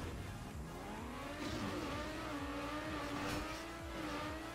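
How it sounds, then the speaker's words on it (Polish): A car in the racing game Trackmania Nations Forever runs at full throttle, its engine a continuous, loud whine that climbs steadily in pitch without letting off. "I faktycznie jest to full speed, tutaj ani na chwilę nie odpuszczasz gazu."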